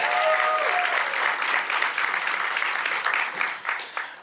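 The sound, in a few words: audience applause for Kamika King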